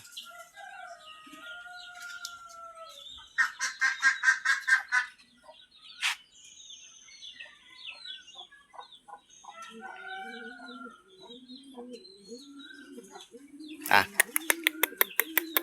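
Ducks and chickens on a farm, with bursts of loud rapid honking quacks and clucking calls near and far, mixed with a person talking throughout.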